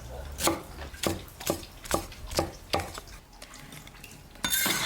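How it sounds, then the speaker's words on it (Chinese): A knife chops pickled radish into big chunks on a board for stir-fried pork kidney, eight or so sharp, close, evenly spaced strikes with no talking. "那个酸萝卜要切成那种大颗颗"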